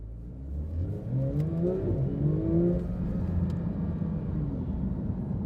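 Manthey Racing Porsche 911 GT3 accelerates from a standstill, a rising engine note climbing steadily through the gears, loud and heard from inside the car, with faint road rumble beneath.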